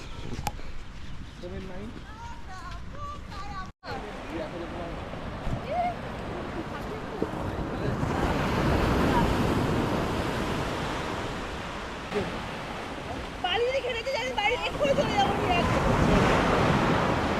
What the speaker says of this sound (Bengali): আর এখন পুরো একদম সামনে জল চলে এসছে, আর যা ঢেউ দিচ্ছে, জাস্ট ওয়াও